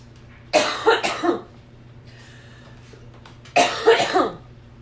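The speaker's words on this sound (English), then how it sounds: "we're going to have to deal with hearing that woman cough again" A woman coughs in two bursts, each a cluster of three sharp, close coughs separated by a pause with faint background sound.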